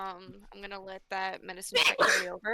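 A sharp, breathy sneeze bursts out right after a voice speaking at a tabletop game session, loud and close, followed by more talk.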